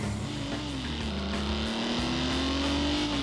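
An Alfa Romeo car drives past at speed, its engine a steady sustained drone with a slowly rising pitch, close and constant with no talking.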